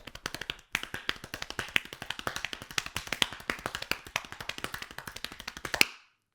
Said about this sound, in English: I can almost play fast enough that it sounds like a roll with just my hands